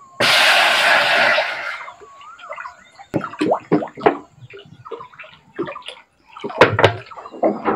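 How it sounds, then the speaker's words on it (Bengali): Water pours into a wok on a stove in a short close gush, then stops, followed by scattered clinks, knocks and drips. "কড়ার মধ্যে একটু বেশি পরিমাণ জল দেব।"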